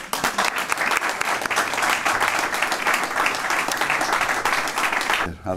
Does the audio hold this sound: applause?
yes